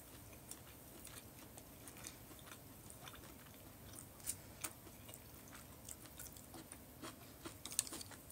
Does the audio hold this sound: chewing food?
yes